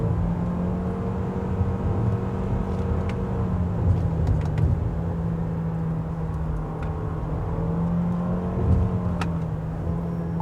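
A Toyota RAV4 Hybrid drives through a curve on a test track, its engine giving a steady low hum with a faint rise and fall in pitch under soft road and wind noise, heard from inside the cabin.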